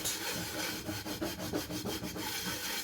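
A cleaning tool scrubs a cooking pot in quick, steady back-and-forth strokes, making a close, rhythmic scraping rasp with no break throughout.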